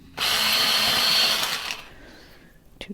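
An electric pencil sharpener grinds a burnt sienna colored pencil in one loud, steady burst of about a second and a half, then winds down, followed by a faint click.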